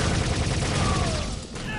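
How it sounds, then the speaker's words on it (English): Revolver gunfire from cowboy-style guns in the PC game Star Trek Voyager Elite Force, a dense, continuous burst of shots on a repurposed deathmatch level, steady and loud throughout with voices talking faintly underneath. "they're legitimately cowboys with revolvers"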